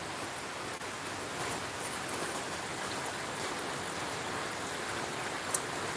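Heavy rain pouring down, a dense, even hiss filling the whole stretch without pause, with no voices.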